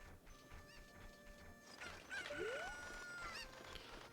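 Chickens clucking in the video game Ocarina of Time, a few short bursts over a steady bed of game music and effects, with a rising squawk near the middle, moderately loud.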